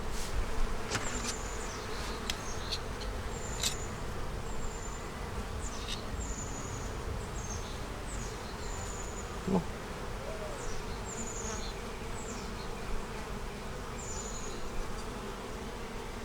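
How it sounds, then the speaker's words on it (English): Honeybees buzz steadily around an open hive as a split is made from a three-year-old blue-marked queen's colony, with many bees flying and droning close by and a few sharp nearby passes standing out. "I know some of you would have said, "Oh, it's only a bee." Yeah, it's my bee."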